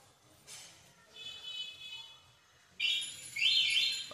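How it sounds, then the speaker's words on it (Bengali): A bird trapped in a net chirps in thin, high, strained bursts, faint at first and then louder and sharper toward the end, against a quiet background. "পাখিটা বেঁধে তো বিশাল অবস্থা খারাপ হয়ে গেছে।"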